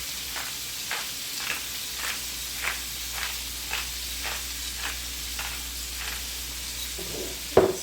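Food sizzles in a hot pan with a continuous frying hiss, broken by evenly spaced scraping strokes about every half second and a sharper clatter at the end; close, no talking.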